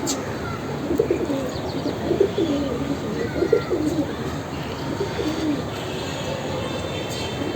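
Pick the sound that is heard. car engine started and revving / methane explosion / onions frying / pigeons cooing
pigeons cooing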